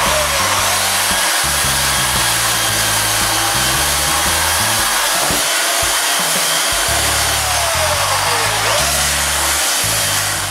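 A power tool rounds the top edges of a wooden dog basket, whining loud and steady at close range with no pauses, its pitch dipping slightly now and then as it bites into the wood.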